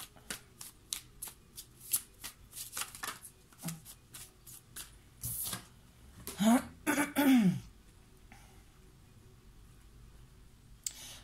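Tarot cards shuffled in a run of crisp riffles and flicks, close and fairly loud, with two longer riffling bursts near the middle and faint background noise between.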